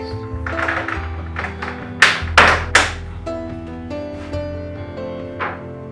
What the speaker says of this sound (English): simply click the hinges into place